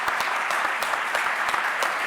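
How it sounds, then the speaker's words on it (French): A conference audience applauds at a colloquium on democracy, information and advertising in France, a fairly close, steady patter of clapping with a few sharper individual claps standing out. "vous pouvez l'applaudir."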